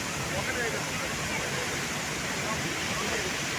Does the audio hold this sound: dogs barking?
no